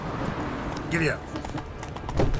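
Horse hooves clip-clopping in The Witcher 3, a steady trotting rhythm running under a voice urging the horse on, with background game ambience.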